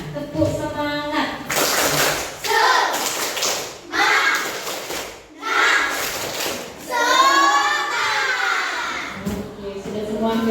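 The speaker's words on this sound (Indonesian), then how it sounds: "kita dengarkan dulu tepuk semangatnya" Children perform a rhythmic spirit clapping routine, with bursts of group claps alternating with loud chanted voices in a steady, energetic pattern at close range.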